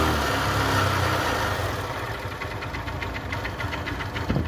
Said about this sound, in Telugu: ఇంజన్ సౌండ్ అయితే మెయిన్గా వినండి ఫ్రెండ్స్.